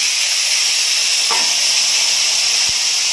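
Yam and potatoes tipped into a hot pan of oil with ginger and green chilli for a Bengali fish curry, setting off a loud, steady sizzle that holds throughout, with a faint clink partway through.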